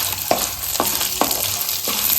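Chana dal and urad dal fry in hot oil with a constant sizzle, broken by about four sharp scrapes of a spoon stirring the pan, close and fairly loud.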